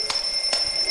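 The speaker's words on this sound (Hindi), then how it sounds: "अरे कान के पास लाकर क्यों अलार्म बजा रहे हो? ऑफ करो इसे।" A steady, piercing electronic alarm tone rings continuously and close by, held right up to someone's ear in a film scene, with brief pulses of louder ringing over the constant beep.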